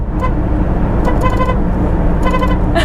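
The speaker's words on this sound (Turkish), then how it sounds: "Düğün kornası." A Toyota Corona's horn blares in a rhythmic wedding-style honking pattern, short bursts and quick repeated toots close by, over a constant low rumble of the car driving on the road.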